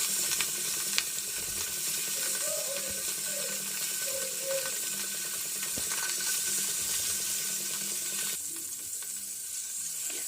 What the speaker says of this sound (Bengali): মাছগুলোকে বেশিক্ষণ ভাজবো না, এপিট ওপিট উল্টিয়ে হালকা করে ভেজে নিব।